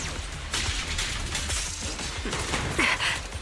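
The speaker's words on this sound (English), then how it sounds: "Yeah, I think I just got shot by it." Gunshots in Zenless Zone Zero, a dense spray of quick game gunfire with crashing impacts, continuous and fairly near for several seconds.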